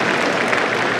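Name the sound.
audience applause at Lions convention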